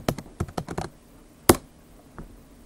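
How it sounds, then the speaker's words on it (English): Quick bursts of keystrokes tapped on a Chromebook keyboard, a rapid cluster of clicks followed by a sharp louder key press and one softer tap, close and dry. "Curious to see if the keyboard works on here."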